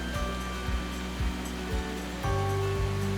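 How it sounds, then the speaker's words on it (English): The world's tallest indoor waterfall at Jewel Changi Airport in Singapore, a continuous rushing roar of cascading water filling the space, steady and loud with a faint low hum underneath. "Singapore's Jewel Changi Airport houses the world's tallest indoor waterfall,"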